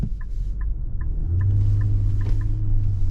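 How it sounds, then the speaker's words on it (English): Steady low road rumble and drone from a 2023 Nissan Pathfinder Platinum 4x4 on the move in Quakertown, with a faint repeating chime ticking over the top and the engine tone rising slightly partway through. "driving this 2023 Nissan Pathfinder"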